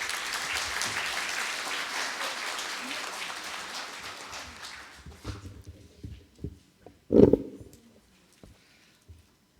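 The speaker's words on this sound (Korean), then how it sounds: "박수로 환영해 주십시오" An audience at a university farewell ceremony claps for several seconds, the applause fading out into scattered claps and a few louder bumps near the end.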